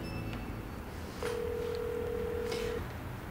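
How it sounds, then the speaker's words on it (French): A telephone line sounds during a call being placed, with a steady electronic tone held for over a second above a low room hiss, plus a couple of faint clicks. "je vais appeler Stéphanie."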